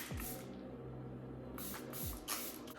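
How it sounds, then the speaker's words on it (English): Several quick hissing bursts of makeup setting spray, close to the face: a longer spritz at the start, then a few short puffs in quick succession, over a faint background hum. "We're going to spray again."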